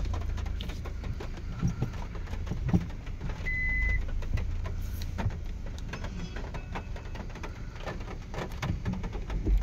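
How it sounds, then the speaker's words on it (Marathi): A large tempo truck moves through a town street, its low, steady rumble mixed with broadband traffic noise and scattered knocks and clatter for the whole stretch, with no voices. "नगरामध्ये एवढा मोठा टेम्पो आलाय."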